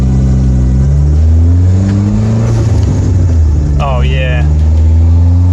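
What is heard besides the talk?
car engine revving during test drive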